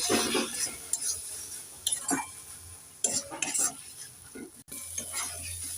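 A spoon scrapes and clinks as flat beans are stirred in a pan to dry off water, in irregular bursts over a low sizzle.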